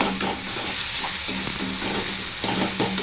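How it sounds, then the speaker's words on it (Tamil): Tomatoes frying in oil for a fish curry (meen kulambu) give a loud, even, close hiss, with faint stirring scrapes repeating underneath. "தக்காளிலாம் நல்லா ஃப்ரை ஆகிடுச்சு"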